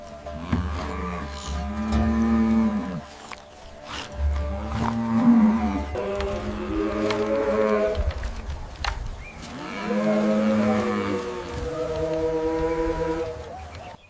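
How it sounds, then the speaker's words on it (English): Ankole-Watusi longhorn cattle of the savannah give several long, deep, drawn-out moos one after another, loud and close, with short pauses between calls and no talking. "The Ankole-Watusi, the cattle of kings, a symbol of our heritage and the heart of the savannah."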